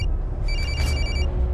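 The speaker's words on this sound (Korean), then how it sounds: "정체불명의 남자가 한태술에게 전화를 걸어오는데" A telephone rings with an incoming call, a single electronic ring burst rising in the middle over a steady low rumble, fairly loud and close with no voices.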